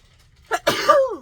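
A single sharp sneeze, close by: a short inhaled catch followed by a forceful burst that trails off into a wavering tail.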